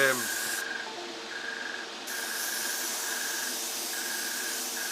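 An airbrush or spray can sprays paint onto a Tamiya 1:35 T-55A model tank, a continuous close hiss with short breaks and slight changes in pressure, steady and fairly loud for several seconds.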